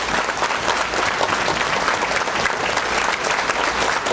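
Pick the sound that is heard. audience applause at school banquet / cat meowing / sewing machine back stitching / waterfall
audience applause at school banquet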